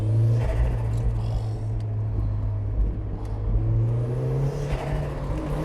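A turbocharged Mk1 Mazda MX-5 accelerates on the road, its engine a steady loud droning rumble whose pitch climbs gradually, heard from inside the car with no talking.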